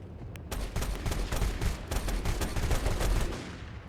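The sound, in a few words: shotgun shots fired from a drone in video game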